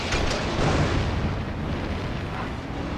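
Explosions in the video game Blood Stone 007 make a dense, continuous booming roar that starts loud and slowly eases off over a few seconds, with no voices.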